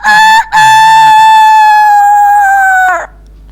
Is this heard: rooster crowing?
yes